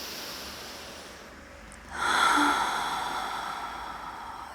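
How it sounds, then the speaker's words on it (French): A slow, deep breath taken consciously while standing during a quiet yoga session, a soft inhale building into a fuller, steady airy exhale, close and alone without talk. "Faites 3 respirations en conscience ici."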